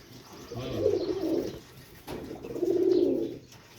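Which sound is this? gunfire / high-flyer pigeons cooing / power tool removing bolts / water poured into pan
high-flyer pigeons cooing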